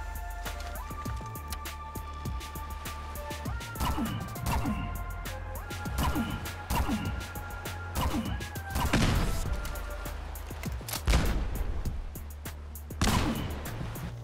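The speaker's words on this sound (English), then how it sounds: "Right here, Rebby is going to be firing the fusion gun." Fusion gun firing in Fallout 4, a string of sharp energy-weapon blasts over about fourteen seconds, each a loud crack-like burst with sustained sci-fi tones and hum in between, no talk heard.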